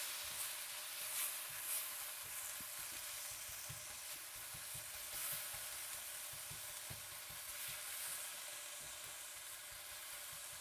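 Gochujang beef sizzling in a hot pan for a beef bowl, with soft stirring and flipping scrapes: a steady close hiss of frying under occasional low knocks of the utensil, no talking.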